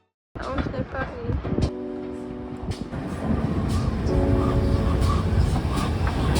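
Train running through the English countryside, a steady rumble and rattle with clicking rail joints filling the whole clip, with a brief horn-like tone near the start and a person speaking over it.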